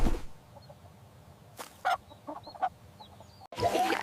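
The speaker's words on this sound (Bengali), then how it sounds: "এটা একটি মুরগি। মুরগি ডিম দেয়।" A chicken clucks in a few short, separate bursts over quiet background, ending in a louder stretch of fowl sounds.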